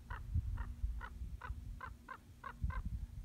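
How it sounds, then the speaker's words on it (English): A crow caws overhead while circling above a property, about eight harsh, evenly spaced calls ringing out clearly over a low rumble of wind or handling noise. "I'm being scraped by a crow. He's circling me."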